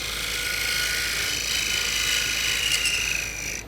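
A skew chisel cuts a dovetail into a spinning workpiece on a wood lathe, giving a steady, close, hissing scrape that holds throughout without a break.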